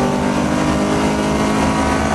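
Saloon race car engine accelerating on a track at Albacete, a loud continuous high-revving roar heard from on board, dense and steady with no voices.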